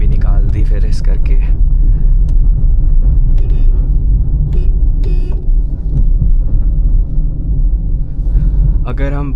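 Hyundai i20 Elite engine revving hard while climbing a narrow forest road near Shimla, a loud steady low rumble filling the clip, with a voice speaking over it at times.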